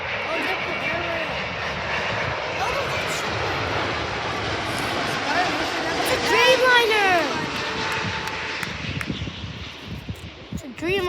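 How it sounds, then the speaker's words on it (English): An All Nippon Airways Boeing 787 Dreamliner landing at Vancouver airport, a broad steady engine roar with a rising whine partway through, while people talk nearby. "It's a Dreamliner, an all nippon Dreamliner from Tokyo Haneda"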